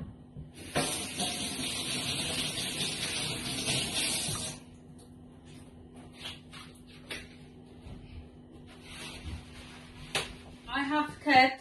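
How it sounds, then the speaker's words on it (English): Running tap water splashes steadily over hands at a home sink while making a fruit smoothie, a loud continuous hiss for several seconds that then drops away, leaving quieter clatter and a short burst of talk at the end. "So first, let me wash my hands."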